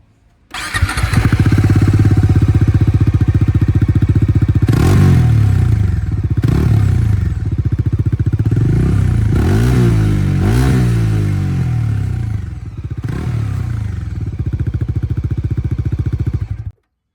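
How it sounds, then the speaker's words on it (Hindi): A Bajaj Dominar 400 motorcycle with 15,000 km on it starts and idles loudly up close, with several sharp exhaust revs rising and falling before it cuts off abruptly. "तो एक बार एग्जॉस्ट साउंड इसका सुनाते हैं दोबारा"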